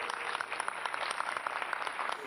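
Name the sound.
audience applause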